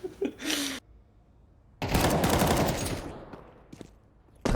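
AK rifle fire in Counter-Strike: a short burst, a pause, then a long loud automatic volley that tapers off, with a couple of single shots near the end.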